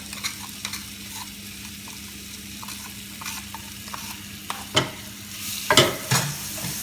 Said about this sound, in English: I got 1 tablespoon of oil in here. It's nice and hot. I'm going to put my onions and green chilies, everything in there.